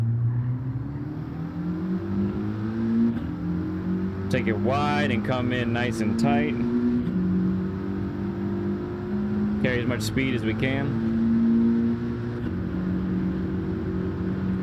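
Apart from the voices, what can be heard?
Mitsubishi Lancer engine revving in Gran Turismo 7 video game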